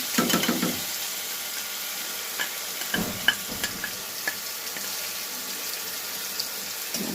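Pointed gourd fried with spices is stirred in a pan, a low continuous sizzle with a few scraping clicks, louder at the very start and otherwise steady and close.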